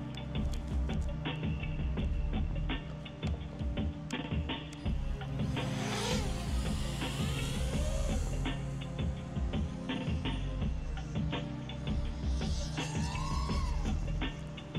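An 8-inch FPV drone on a Hyperlow frame flies close by with a loud, steady buzzing whine of motors that swells and dips in pitch as it maneuvers, continuous throughout.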